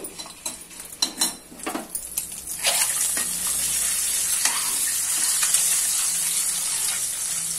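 Masala for egg curry frying in a pan: a few spoon clinks and stirring scrapes at first, then a loud, steady sizzle that carries on to the end, with no talk.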